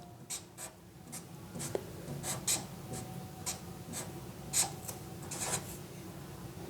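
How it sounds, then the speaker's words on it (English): Pen strokes scratch out a chemical reaction on a writing surface, a series of short, close scribbles and taps with brief pauses between them and no talking. "let me write the general reaction"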